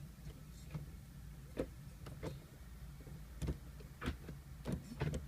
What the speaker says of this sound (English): Real precise shift movements.